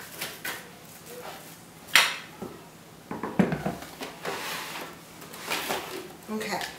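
A tart pan being lined in a home kitchen, with scattered metallic clanks and clatters of pans and utensils, one sharp knock standing out, amid rustling handling noise and muffled talk.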